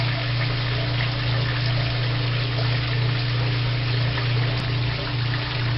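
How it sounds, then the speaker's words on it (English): A washing machine drain pump runs with water flowing through it, a steady low hum with constant splashing and trickling that stays even throughout. "The pump starts working."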